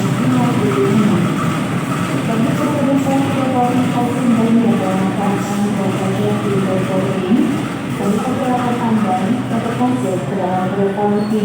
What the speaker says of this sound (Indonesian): Ini dia kereta api Pasundannya ditarik oleh lokomotif CC203 9506.